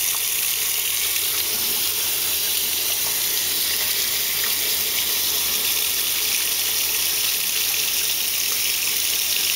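Tap water runs steadily and loudly from a faucet onto ink-stained fabric in a sink, a continuous close gushing rush with no talk.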